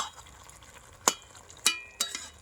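Fried bitter gourd pieces stirred into a spice paste in a pan: three sharp scraping knocks of the spoon, spaced about half a second apart, over a faint steady sizzle, with no talking.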